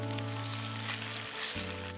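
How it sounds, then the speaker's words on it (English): Butter sizzles steadily as it melts into a sauce in a hot pan while venison is cooked, a continuous close frying crackle with a low steady hum underneath and no talking. "I'm going to melt that down with some butter."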